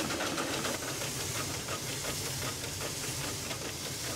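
A vintage steam car hisses steadily as water is blown out of its cylinders, giving a loud, close, continuous rush of steam with a faint pulsing texture.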